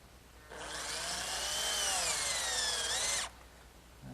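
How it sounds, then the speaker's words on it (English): A power drill drives a screw partway into wood, whining loudly and steadily for about three seconds up close, its pitch sagging slightly under load before it stops abruptly. "I'm just going to take a screw and partially drive it in to sort of give me like a pilot hole."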